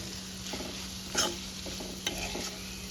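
Onion with garlic-ginger-coriander masala sautéing in a pan, a quiet steady sizzle broken by a few spoon scrapes and one sharper clink, close and alone without talk.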